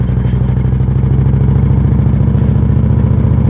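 A Victory Cross Country motorcycle engine rumbles steadily at close range with an even, throbbing pulse, running without a break.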